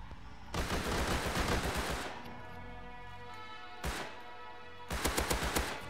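Gunfire in the survival video game Rust: rapid bursts of automatic shots, loud and close, with a sustained ringing rumble between volleys and a sharp final burst.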